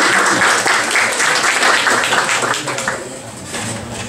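Lecture audience at a cultural forum breaks into a broad round of applause, loud and close, thinning toward the end as clapping fades, with a voice speaking briefly over it.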